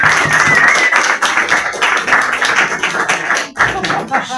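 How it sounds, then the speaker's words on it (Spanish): Audience applause for the author at a Spanish-language book presentation in Cologne, Germany: dense, steady clapping from a room full of people, loud and continuous with a short dip before it carries on. "un fuerte aplauso para él"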